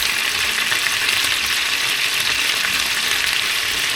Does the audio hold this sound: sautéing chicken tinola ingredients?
yes